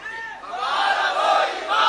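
A large gathered crowd at a religious debate chants a slogan together, a loud sustained swell of many voices rising and holding over two seconds, close and filling the space.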